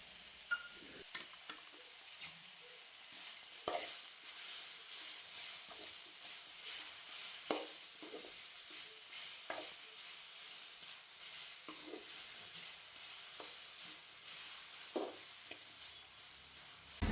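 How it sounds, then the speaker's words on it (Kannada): Chopped tomatoes fry in a pan, a quiet continuous sizzle broken by occasional sharp clicks and stirring sounds, close and fairly faint. "ಎರಡು ಕಟ್ ಮಾಡಿದ ಟೊಮೆಟೊ ಹಾಕಿ ಫ್ರೈ ಮಾಡುವ."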